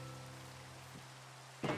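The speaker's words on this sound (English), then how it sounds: "And it's raining again already?" Steady rain hissing in the Minecraft video game on Xbox 360, a soft continuous wash of falling drops with a faint low hum beneath and a brief louder rustle near the end.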